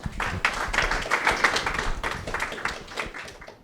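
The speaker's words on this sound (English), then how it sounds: "Please give them a round of applause." An audience at a business talk on ethical AI applauds the speakers with a steady wash of many hands clapping at close range, holding fairly even before thinning out at the close.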